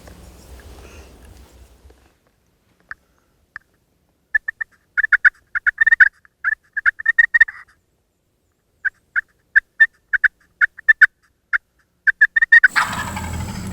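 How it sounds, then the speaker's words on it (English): A distant wild turkey gobbles in repeated rattling bursts, clustered in quick runs separated by silence, followed by a sudden close rustle at the end. "Gobbled again, he's getting closer."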